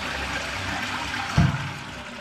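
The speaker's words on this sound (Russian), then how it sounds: "Сейчас будем смывать" A toilet being flushed during a plumbing hookup job, heard as a steady rushing of water with one short thump partway through, close and fairly loud, with no talking.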